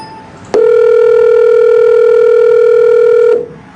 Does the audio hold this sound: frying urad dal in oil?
no